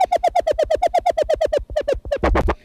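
A Sample Logic Tronix synth plays a rapid, evenly pulsed triplet pattern pitched up high, with crisp repeated plucky notes that stutter briefly and end in a denser, louder flurry.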